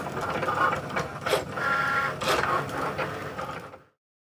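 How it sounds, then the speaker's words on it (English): A Cricut Maker cutting vinyl runs with a close, steady whirring motor and rapid back-and-forth carriage movements, with brief pulsing swells, then it stops abruptly into silence. "I'm going to cut them out on my Cricut Maker"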